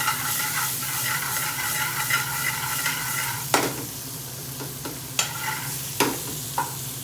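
Onions caramelizing in a frying pan for a restaurant-style chicken tikka dupiaza hiss in a constant sizzle, punctuated by several sharp scrapes and knocks as a spoon stirs them.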